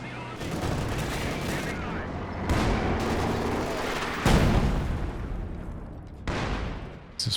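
Panzerwerfer rocket artillery in Company of Heroes 2 fires a series of loud whooshing, booming launches with sharp onsets, several in succession over a continuous battle din, and a commentator talks faintly underneath.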